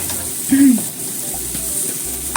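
Zucchini and egg sizzle in a pan over high heat, a steady close frying hiss with a brief stirring scrape, running alone without speech.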